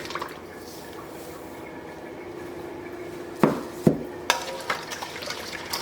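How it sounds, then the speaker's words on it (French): A spoon stirs sugar into pineapple ginger juice, a soft liquid swirl followed by several sharp knocks against the container, close and alone with no talk. "Donc mélangez, goûtez pour voir s'il y a assez de sucre à votre goût"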